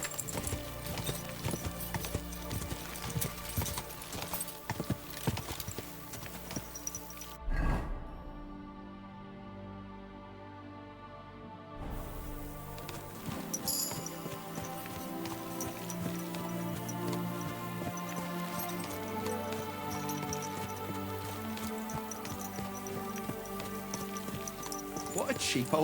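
Horse hooves clip-clop steadily on the ground in Kingdom Come: Deliverance II, a continuous trotting rhythm under game music and ambience, broken by a brief hush midway before resuming.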